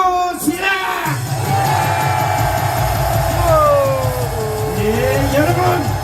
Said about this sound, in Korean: 함성 5초 시작!